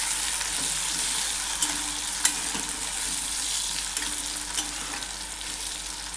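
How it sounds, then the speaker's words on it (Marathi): Chopped tomato added to softened onion sautés in hot oil in a pan for dal dhokli, giving a steady, close, even sizzle throughout with a few soft spoon knocks and no talking. "टोमॅटो आपल्याला 1 मिनिट छान परतून घ्यायचा आहे."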